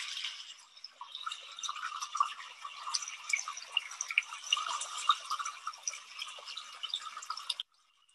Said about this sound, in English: lot of water moving.